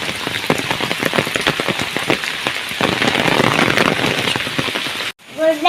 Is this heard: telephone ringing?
no